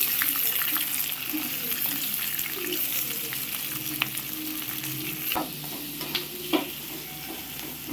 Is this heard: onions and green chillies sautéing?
yes